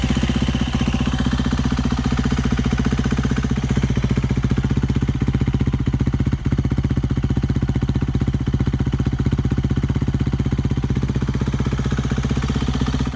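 A KTM 350 EXC-F dirt bike engine idles steadily after an oil change, a close, loud, rapid even putter that runs unbroken for the whole stretch, with no voices.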